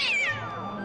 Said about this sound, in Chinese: 这些都只是普通的流浪猫而已。